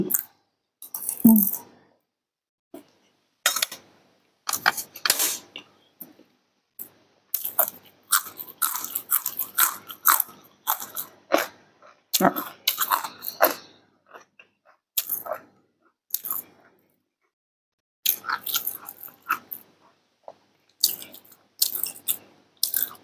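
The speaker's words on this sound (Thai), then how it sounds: "ผักต้ม ผักดอง ผักสด มาจ้ะกินเลย" Boiled, pickled and fresh vegetables eaten with a homemade fluffy catfish chili dip, with mackerel and boiled eggs on the side, giving close, crisp bites and crunchy chewing in short, separate bursts between quiet pauses.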